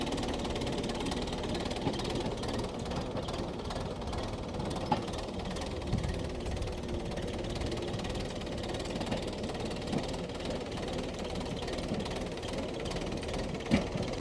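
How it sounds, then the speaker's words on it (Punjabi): A 5911 tractor engine running steadily nearby, a continuous mechanical drone with a faint rattling knock and a couple of sharper clicks, no talk over it. "ਆਵਾਜ਼ ਚੈੱਕ ਕਰ ਸਕਦੇ ਆ ਟਰੈਕਟਰ ਦੀ"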